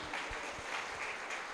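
A church congregation applauds together, a steady, dense wash of clapping that holds even throughout with a few stronger claps standing out.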